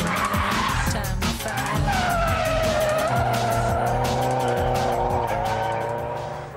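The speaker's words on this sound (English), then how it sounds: "The winning drift was this one" A road-legal Nissan drifts at a Silverstone drifting club event, its tires squealing loudly and continuously over a roaring engine, the screech wavering in pitch before easing off near the end.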